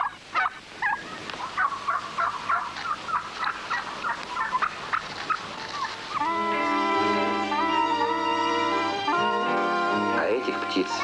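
A snowcock gives a run of bubbling, gobbling calls in the Western Tian Shan mountains, first in short bursts, then a long rising chatter, fairly close and loud.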